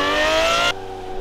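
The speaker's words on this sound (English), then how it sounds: "this is a V12 engine" A Lamborghini Murciélago 6.5L V12 in Assetto Corsa howls at high revs with a loud, harmonic-rich engine note that cuts off abruptly partway through, dropping to a lower, quieter idle-like drone.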